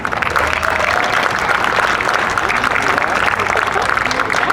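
Audience applause at an outdoor Pride Fest 2022 flag raising, a steady dense wash of clapping from a crowd that holds evenly for several seconds at moderate loudness.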